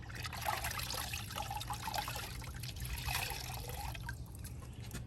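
A wash towel being rinsed in a bucket of water while hand-washing a classic car, giving a steady close trickling and dribbling of liquid with soft splashes throughout, no talking.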